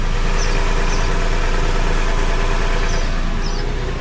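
A fifth-generation Toyota 4Runner with a catback exhaust idling up close, a steady low rumble and hum that stays constant and quiet throughout, with no voices over it.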